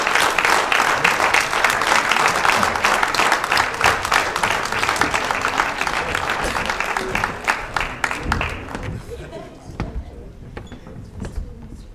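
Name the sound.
audience applause for Bafana and Banyana players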